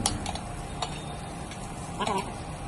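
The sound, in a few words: stirring rotla pieces with spices in a pan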